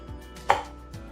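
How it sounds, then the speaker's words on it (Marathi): A few sharp knife taps against a cutting board as green chillies are finely chopped, one cut louder than the others, close and distinct. "मिरच्या बारीक कट करून घेते मी एकदम अशा फाईन"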